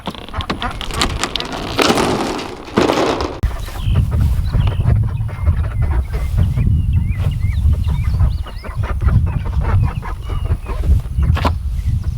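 Ducks kept as backyard poultry quack and honk loudly in a busy, overlapping chorus, close by and continuous, with rustling and outdoor noise mixed in.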